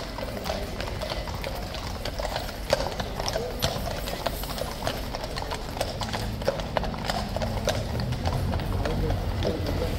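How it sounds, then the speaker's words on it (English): A large group of Household Cavalry horses clip-clop past at Horse Guards, a continuous overlapping patter of hooves on hard ground with faint crowd murmur behind. "I'm spotting some blues horses clopping out in a big group"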